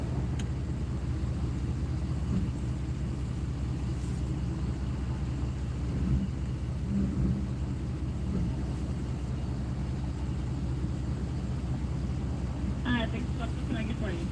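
Low, steady rumble of car engines idling in a drive-thru line at a Cajun restaurant in Houma, Louisiana, droning throughout with faint voices and a few light knocks.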